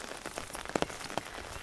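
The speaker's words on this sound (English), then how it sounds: "just enjoying the rain, just embracing it" Rain falls steadily on a hiking trail, with a soft, constant patter and scattered sharper drops striking nearby surfaces, quiet and close.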